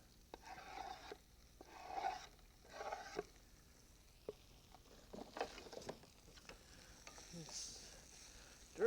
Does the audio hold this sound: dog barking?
no